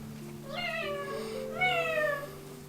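A cat meows twice at a family home, two drawn-out, clear meows close by, the second slightly louder, over a faint steady background hum.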